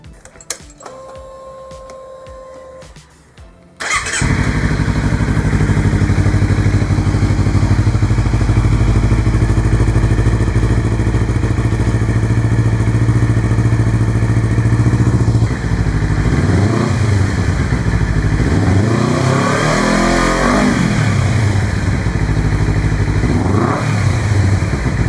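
A loud 2021 Honda CBR250RR SP QS with an Akrapovic slip-on exhaust idles with a deep, throaty rumble, then revs up sharply several times, rising and falling, close by.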